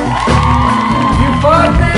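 Concert audience at a tour show in Calvello cheering and whooping loudly, a dense crowd roar with shouts rising over it, steady and close throughout.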